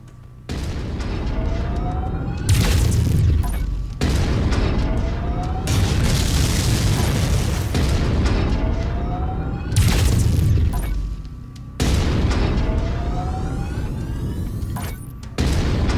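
Mechs exploding in MechWarrior 5, a series of loud booming blasts with sharp bursts and rolling rumble, repeating every few seconds over constant battle noise.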